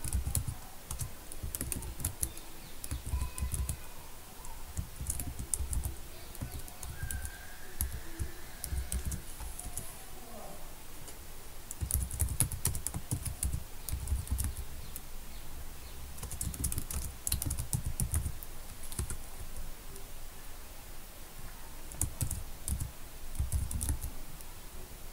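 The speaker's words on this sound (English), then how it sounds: "Now type the code." Someone types VBA code on a computer keyboard for an Excel macro, a long steady run of close, rapid key clicks with brief pauses and no speech.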